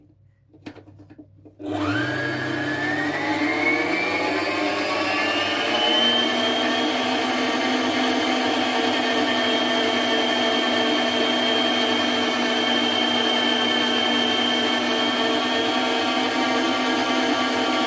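An electric mixer beating cake batter with six eggs in a deep bowl spins up after a few clicks and then whirs at a steady high pitch, loud and close, running continuously without speech.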